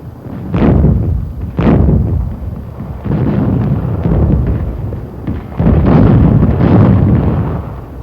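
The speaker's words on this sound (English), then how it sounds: "armored vehicles of General Courtney Hodges' First Army opened fire on the French town of Dercy" Armored vehicles of the US First Army firing on a French town in 1944, heard as heavy booming blasts, two sharp reports early followed by sustained rumbling bursts, loud and close with no voices.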